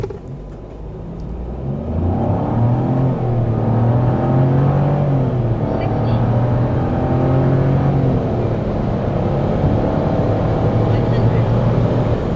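Dacia Duster Hybrid-G 150 hp running on LPG with air conditioning off, accelerating hard from standstill toward 100 km/h; a loud, steady rising engine and transmission drone fills the cabin throughout, with tonal pitch sweeps as it gains speed.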